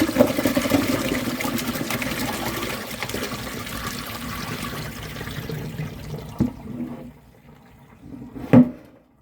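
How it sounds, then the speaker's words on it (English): Brine pours out of a large crock of fermenting olives, a steady liquid gush that tapers off toward the end, followed by a brief splash or clunk. "start pouring the brine out."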